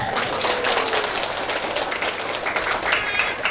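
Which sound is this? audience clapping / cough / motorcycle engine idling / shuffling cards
audience clapping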